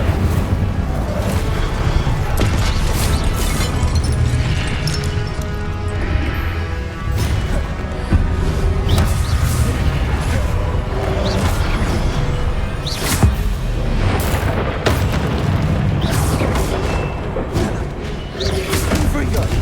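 Repeated spell blasts and crashing magical impacts from the Hogwarts Legacy video game, fire-spell bursts thudding and smashing loudly one after another amid constant combat noise and shouted voices throughout.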